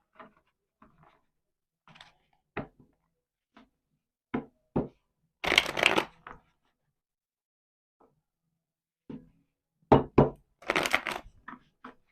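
Tarot cards are handled and shuffled for a reading, with scattered soft taps and knocks and two short, crisp bursts of riffling cards, close by in an otherwise quiet room.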